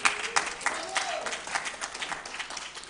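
An audience applauds at an economic forum on developing the 145 territories of the DR Congo. Steady, dense clapping with scattered louder claps runs through the whole stretch at a moderate level.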